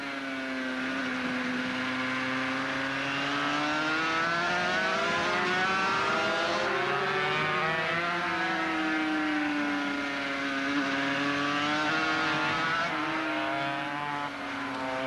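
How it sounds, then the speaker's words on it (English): A high-revving two-stroke 500cc Grand Prix racing motorcycle engine at the 1994 Czech Republic Grand Prix screams loudly and continuously, its pitch rising and falling as it shifts through gears. "Just have a listen to the engine."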